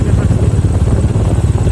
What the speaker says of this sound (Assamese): কাৰণ বাইক চলাই আছোঁ এতিয়া আৰু অলপ বতাহো মাৰি আছে